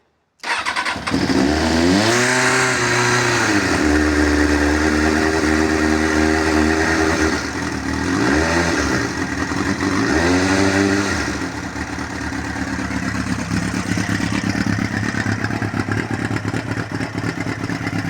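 Kawasaki ZX6R motorcycle engine, running after choke on a rebuilt bike, starts and revs in several rising and falling sweeps, then settles into a steady, loud idle close by.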